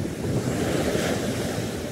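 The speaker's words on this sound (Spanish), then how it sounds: "Me encanta este sonido," Steady surf rushes on a Chilean beach, loud and close, with strong wind rumbling across the microphone and no voices.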